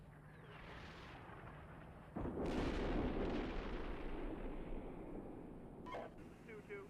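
Gunfire in the tank simulator Steel Beasts Pro PE: a heavy, booming blast hits abruptly and rolls off into a long rumbling decay, with a fainter report near the end over steady engine noise and radio chatter.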